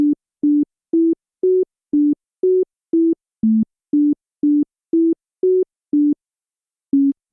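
A short melody of evenly spaced electronic beeps, each tone brief and pure, shifting in pitch, ending after a pause with one final tone.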